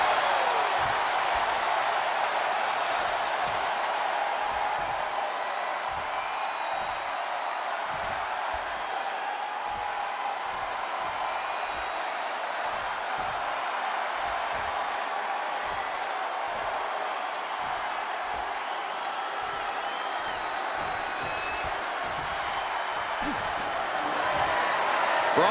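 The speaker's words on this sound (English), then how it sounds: "Listen to this crowd driving these competitors to leave everything out in the ring." Roaring wrestling arena crowd in the WWE 2K24 video game, a steady dense cheer sustained throughout with dull thumps from the ring underneath and a commentator talking over it.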